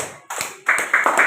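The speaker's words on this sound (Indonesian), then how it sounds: "kasih tepuk tangan untuk kelompok 3" A short burst of clapping from a group of children in a classroom, uneven and building in two or three waves, fairly close and moderately loud.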